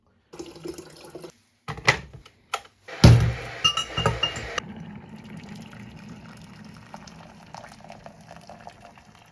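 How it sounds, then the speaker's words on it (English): Boiled water pours into a jug holding a car thermostat from an overheating VQ35DE engine, a splashing, gurgling rush after a few clinks and clatters, then settling into a steady low trickle and bubbling. "put your thermostat in the jug, and then pour the water in"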